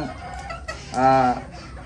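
A hen clucks once in a short, throaty burst, close and fairly loud, with soft background noise around it.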